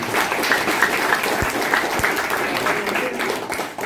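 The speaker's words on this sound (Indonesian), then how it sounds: "Aplaus untuk kita semua" An indoor audience claps steadily through a brainstorming session, sustained applause of moderate loudness with a few louder individual claps.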